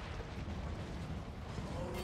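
Dwarf army firing volleys in a Total War: Warhammer battle, with Quarrelers and Ironbreakers engaged; a dense, continuous rumble of booming shots and battle noise, steady and loud throughout.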